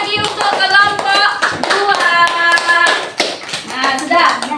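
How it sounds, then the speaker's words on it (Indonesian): A class of students clapping for a group of classmates, with close, crisp, rapid hand claps that come in uneven bursts, mixed with children's voices. "Beri tepuk tangan sekali lagi untuk kelompok"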